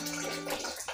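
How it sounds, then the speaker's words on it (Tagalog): Coconut water is poured into a blender for buko juice, a steady close splashing rush lasting about a second with no talk. "Dagdagan po natin siya ng tubig ng buko."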